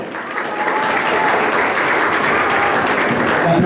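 A crowd at a Boyacá cycling team presentation claps continuously, a dense, even wash of applause that holds loud and steady from start to finish.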